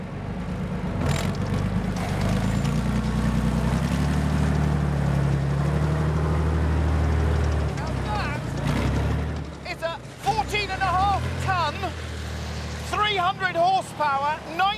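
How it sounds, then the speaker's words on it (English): An OT90 armoured personnel carrier with steel tracks drives along outdoors, its heavy engine rumbling loudly and steadily for most of the stretch before dropping back, with voices talking over it and birdlike whistles near the end. "actually it's an APC, an armoured personnel carrier"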